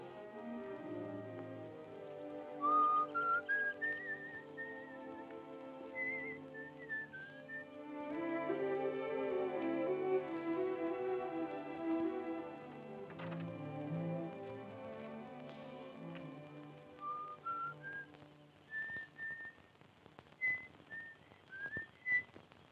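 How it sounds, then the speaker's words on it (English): A person whistles a little tune alone, a clear, wavering melody of rising and falling notes with short pauses between phrases, close and steady in level. "you wait here and whistle yourself a little tune till I come back"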